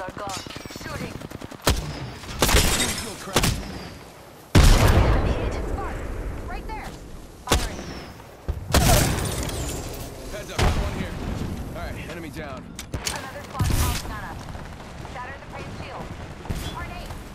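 Apex Legends gunfire: sharp bursts and single shots ring out in irregular clusters with pauses between, some heavy booming impacts, fairly loud against a quieter game background.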